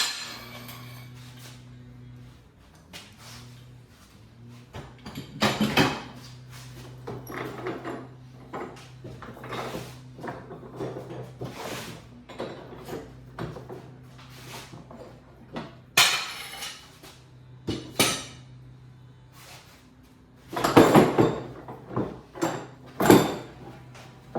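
Clamps come off a glued walnut panel, with scattered metallic clanks, ratcheting clicks and knocking of clamp bars against wood, some sharp and loud, spread irregularly over a quiet workshop background.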